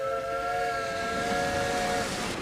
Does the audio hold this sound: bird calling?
no